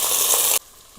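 Bay leaf, cinnamon and washed rice hitting a hot pan for white pulav, a bright burst of sizzling that cuts off abruptly after about half a second, leaving quiet.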